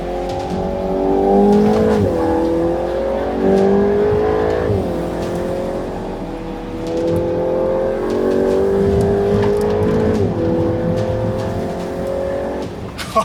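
A VW Golf GTI Edition 50 petrol engine revs hard on a racetrack, its loud, close tone climbing and dropping through gear changes after heavy braking from over 200 km/h, with brief tyre squeal and no talk.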